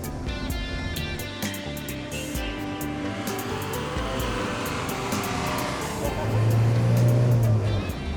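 Bus ride on a bumpy road across the island of Sumbawa, a steady engine drone and road rumble with repeated short jolts and rattles, close and continuous, with a low hum swelling near the end.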